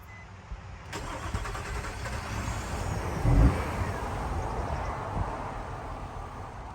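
A Nissan Murano engine with a starts-and-quits fault cranks and catches, running roughly for a few seconds with a brief surge before sputtering and stalling; steady mechanical hum, no talking.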